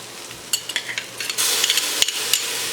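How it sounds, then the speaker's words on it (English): Minced garlic from a jar dropped into hot olive oil in a pan, with a rising crackling sizzle and light clinks of a utensil stirring, steady and close. "I'm going to put the garlic in now. Just a little bit more olive oil."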